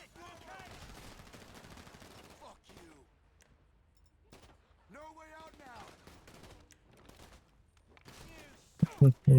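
Sniper rifle gunfire in the video game GTA Online: sharp shots stand out between people talking in the game.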